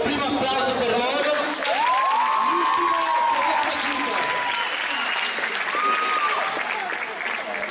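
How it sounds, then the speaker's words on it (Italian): An audience breaks into sustained applause and cheering, a broad crowd of clapping hands with some hubbub and voices mixed in, loud and continuous. "io vi chiedo il primo applauso per loro"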